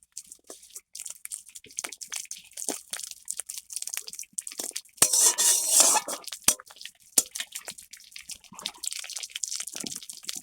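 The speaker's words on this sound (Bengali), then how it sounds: "কাঁচা লঙ্কা দিয়ে একটু ভালোভাবে আমি এটা নাড়িয়ে নেব। লঙ্কাটা ভালোভাবে একটু ভেজে নেব।" Green chillies fry and get stirred in a pan, with intermittent crackling pops and splatters and a brief louder sizzling burst midway, close by and otherwise fairly sparse.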